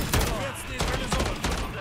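Repeated bursts of automatic gunfire in the video game Modern Warfare 3 Zombies, loud and close in short rapid volleys, with some voice under the shooting.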